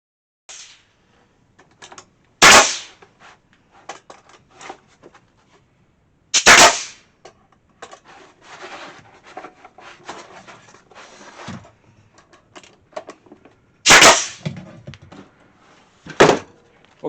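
Hammer blows nailing a wooden memory box together, four sharp, loud strikes spaced several seconds apart, with quieter knocks and handling of the wood between them.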